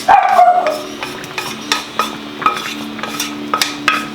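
A small dog barks in short, sharp yaps, several in a row with brief pauses, close by over a faint background hum.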